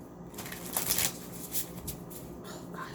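A deck of cards being riffled and shuffled close up, several quick papery bursts in succession with soft handling sounds between.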